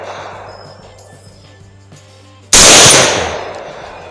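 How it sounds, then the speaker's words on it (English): A single loud rifle shot at a wild hog cracks sharply after a quiet stretch of faint night ambience, then decays over about a second and a half. "I'm going to shoot it again, miss, and then I'm going to pick it down"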